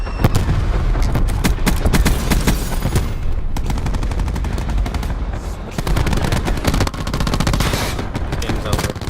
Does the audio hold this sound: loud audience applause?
no